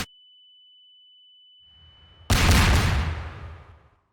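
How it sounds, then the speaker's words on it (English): An explosion in a One Piece anime scene: a thin steady tone holds alone for about two seconds, then a sudden loud, deep blast bursts out and rumbles away over the next second and a half. "Then he exploded."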